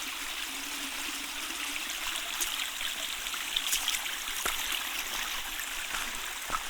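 Stream water runs over rocks at a trail water crossing in Tiadaghton State Forest, Pennsylvania, a steady close rushing babble with occasional small splashes and no talk.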